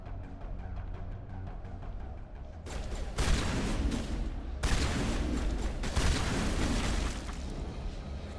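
Video game gunfire from a firefight aboard the Borealis against Geth on Feros, loud dense bursts and booming shots starting a few seconds in and continuing in rapid clusters with heavy low rumble.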